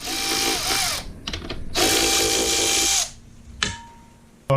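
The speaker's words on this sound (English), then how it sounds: "So I'm just going to use my ratchet, get those out real quick" A powered ratchet whirs in two long bursts and a short blip while backing out 10 mm bolts on a Jeep engine, loud and close, with a rising and falling motor whine and brief clicks between runs.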